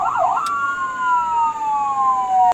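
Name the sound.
ambulance siren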